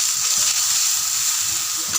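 Onion, cloves, cardamom and bay leaf sizzling in hot oil in a pan for a rohu fish curry, a steady close hiss of frying with faint kitchen noises underneath.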